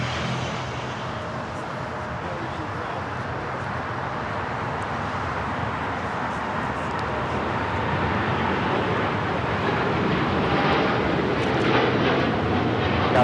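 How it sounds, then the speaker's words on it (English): A United Airlines Boeing 787-9 Dreamliner takes off from Los Angeles bound for Shanghai, its engine roar building gradually and steadily louder, a broad rumble heard alone from a distance. "This is United Airlines 198 taking off to Shanghai on the 787-9 Dreamliner."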